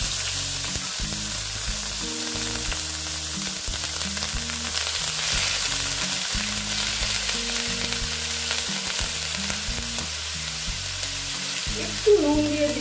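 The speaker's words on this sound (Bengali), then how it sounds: "পেঁয়াজটা দিয়ে দিলাম।" Ground onion paste frying in oil in a pan for pomfret jhal gives a continuous loud sizzle up close, broken by irregular scraping stir strokes and a brief clatter near the end.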